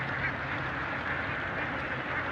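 A large flock of ducks crowding an open field quacks in a dense, continuous chorus, many overlapping calls at once with no pauses, steady and moderately loud.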